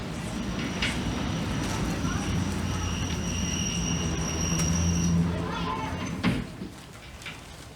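A train rumbles past steadily in a stage play, with a low, sustained roar and faint wheel squeal, easing off near the end as voices murmur in the background.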